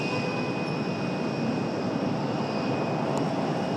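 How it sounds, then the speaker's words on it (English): A Frontier airliner rolls for departure on the runway at Raleigh-Durham airport, a steady, loud broadband jet roar with a faint high whine, continuous throughout without talk. "Frontier up for departure."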